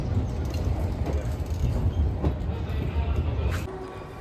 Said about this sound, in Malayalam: ആ ട്രെയിന് ബാക്ക് എടുത്ത് നേരെ വന്ന്